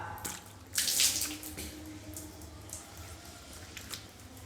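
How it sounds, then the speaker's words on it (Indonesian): Water poured from the hands onto the face during wudhu ablution at a tap: a brief splash followed by dripping and trickling, close and fairly loud, with no talking. "Tumpahkan ke muka."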